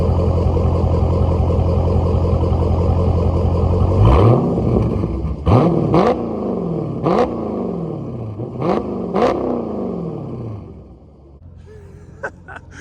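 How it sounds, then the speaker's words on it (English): A 2023 Dodge Charger Scat Pack 'Last Call' with a 485-horsepower V8 and ZF 8-speed automatic rumbles loudly and then lets out several sharp, close rev blips that fall away quickly before it settles into a quieter idle. "these Dodge V8s are some of the best sounding V8 engines out there for sure"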